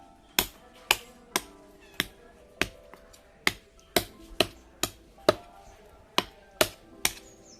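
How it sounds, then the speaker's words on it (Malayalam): Knife cuts removing the teeth from a fish head, a series of about fifteen sharp, crisp clicks or snaps at a steady, slightly uneven rhythm, close by and separated by brief quiet gaps. "പല്ലൊക്കെ ഒന്ന് നമുക്ക് കട്ട് ചെയ്ത് കളയാം"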